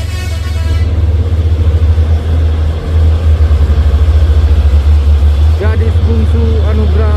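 A Hino 500 truck's diesel engine drones loud and close throughout, with a steady heavy low rumble and a brief dip midway, while someone talks over it and a horn-like tone sounds near the end.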